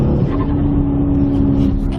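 Cabin drone of an Audi A5 with a turbocharged engine, a steady low hum and rumble with a constant tone running throughout, heard from inside the car.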